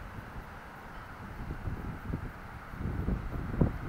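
Light wind on Maspalomas beach, Gran Canaria, at sunrise with no waves: a soft, low rumbling buffet against the microphone that gusts gradually stronger toward the end.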